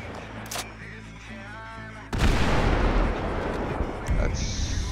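A modded grenade launcher fires in GTA V and the round bursts into a loud, rumbling explosion that keeps roaring for several seconds, following a stretch of quieter game background.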